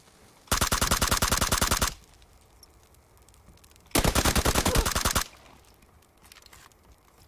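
Two long bursts of rapid automatic gunfire in a video game, each about a second and a half of dense, loud rattling, separated by quiet, with no talking.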